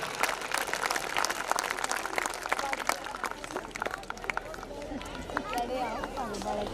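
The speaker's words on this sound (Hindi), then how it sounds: "जोरदार तालियां कर्नल साहब के लिए, बच्चों के लिए और पूरे स्कूल के टीचर सभी के लिए जोरदार तालियां।" Audience applause fills a school annual function at Stellar Global School in Nahra, Sonipat, Haryana: dense, sustained clapping from a large crowd that runs through the whole stretch with voices mixed in.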